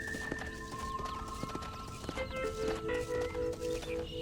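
Horse hooves in Red Dead Redemption on Xbox 360 clip-clop in an uneven rhythm under steady tonal music and a low ambient bed, with a hint of a whinny.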